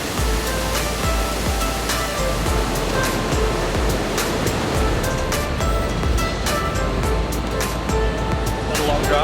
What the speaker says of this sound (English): there's a waterfall on your right-hand side on the way